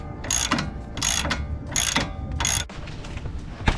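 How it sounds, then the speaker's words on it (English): A ratchet wrench loosens a 15mm shock bolt on a 2005-2009 Mustang GT, with four bursts of rapid clicking, each about half a second long, close and loud, followed by a softer final click. "the next step is to loosen up the shock bolt, and this is 15mm as well"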